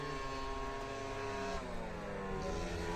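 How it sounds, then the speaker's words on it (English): Mopeds ride up and down a street in Paphos, Cyprus, their engines a steady, fairly close buzzing drone whose pitch rises and falls as they pass, with no talk over it. "there's a couple of mopeds going up and down"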